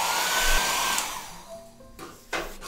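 A hair dryer blows on a watercolor painting, a loud close whoosh that runs for about a second before it is switched off, followed by quieter handling clicks and thumps.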